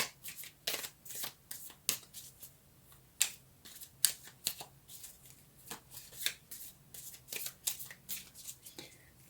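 Tarot cards being shuffled by hand, a rapid run of crisp, close papery riffles and snaps in irregular bursts, with quiet pauses in between and no talking.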